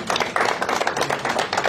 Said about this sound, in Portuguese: Palmas para o Diniz, né?